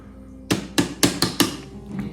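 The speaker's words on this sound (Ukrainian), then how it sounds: "Ну все, можеш бити молотком." A hammer strikes a plaster dinosaur excavation kit five times in quick succession, sharp loud close knocks with short decays, no talk.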